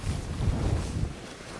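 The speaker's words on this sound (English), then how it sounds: "it's far too windy, you know, now" Strong wind on Hard Knot mountain in the Lake District buffets the microphone with a continuous low, rumbling roar that stays steady and moderately loud throughout.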